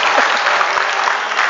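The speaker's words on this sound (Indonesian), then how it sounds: "Boleh nggak tepuk tangan untuk tuan guru kita?" An audience inside a mosque claps loudly and steadily at a Maulid Nabi commemoration, a dense, continuous burst of applause filling the hall throughout.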